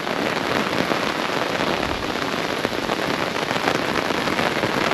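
Heavy rain pours down steadily at Malampuzha Dam in Palakkad, Kerala, a dense continuous hiss of drops hitting surfaces, with no voices.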